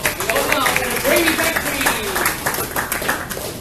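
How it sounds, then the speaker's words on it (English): A crowd at a Green Drinks KL gathering claps for Simpson, a dense, steady wash of applause with voices and cheers mixed in throughout. "please give Simpson a big round of applause"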